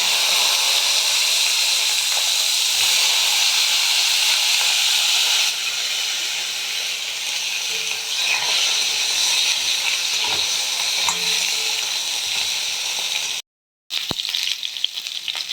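Nigella seeds sizzle in hot oil while fish is being cooked, a loud, dense, steady hiss of frying close up that runs almost unbroken, with one brief cut near the end.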